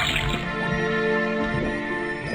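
Liquid runs from a tapped faucet into a cauldron in the Detective Grimoire puzzle game, a steady close trickle with gurgling, bubbly bursts over a faint tonal backdrop.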